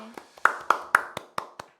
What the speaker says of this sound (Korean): 박수로 마치도록 할까요?